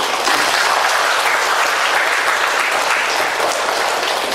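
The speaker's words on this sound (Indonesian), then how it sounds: "Boleh tepuk tangan untuk ini." An audience at a closing ceremony for a provincial event in South Sumatra breaks into loud, sustained applause, a thick uniform roar of many hands clapping without pause from start to finish.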